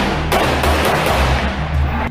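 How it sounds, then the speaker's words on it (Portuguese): Gunfire crackles in the Rocinha favela in Rio de Janeiro at dawn, a loud, dense barrage of overlapping shots and rumbling blasts filling the whole moment without pause. "os moradores acordam atormentados e assustados com o barulho dos tiros"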